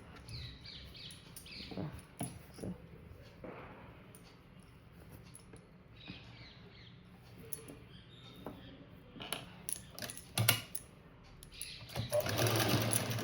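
A sewing machine runs in bursts and stops as it stitches a saree border onto a blouse, its whirring fairly quiet and close with small clicks and handling noises between runs.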